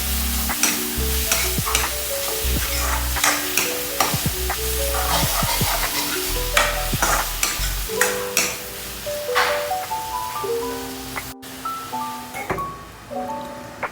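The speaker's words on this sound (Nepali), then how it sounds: "अनि यसरी नै एकछिन गरी भुट्ने।" Onion, garlic, tomato and chopped vegetables fry in a pan with salt and turmeric while being stirred, giving a constant loud sizzle broken by repeated scraping and clattering strokes of the utensil, with no voices.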